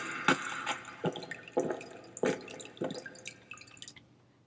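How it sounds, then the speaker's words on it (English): Water dripping in a cave: a slow series of about eight sharp, echoing drops at irregular intervals, each ringing briefly before fading into near silence. "an extra effect to get the atmosphere and the feeling of a cave with the water dripping"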